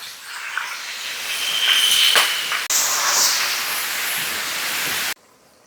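Vathal broast frying in thick, hot oil, a loud steady hiss and crackle that holds for about five seconds, breaks briefly partway, then cuts off abruptly into near silence.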